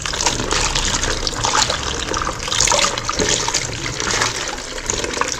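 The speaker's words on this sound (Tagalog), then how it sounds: "Kailangan talaga mahugasan. Lagay lang natin dito sa strainer." Running water pours steadily over dried taro leaves being rinsed in a strainer, a continuous close splashing and trickling wash with no talk over it.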